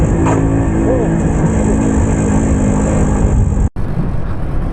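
A 1984 MZ TS125 two-stroke motorcycle engine labours and bogs in fourth gear during running-in after a rebuild, a loud steady droning rumble with wind noise that cuts out abruptly near the end before resuming.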